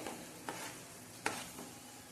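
Masala being stirred into chickpea curry in a pan, soft scraping strokes over a quiet steady sizzle, with a few sharper spoon knocks against the pan.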